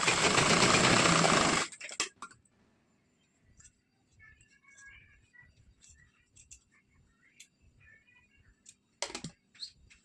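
A sewing machine stitches blouse piping in a loud, rapid whirring burst for about two seconds, then stops, leaving faint clicks, fabric handling and a few soft knocks.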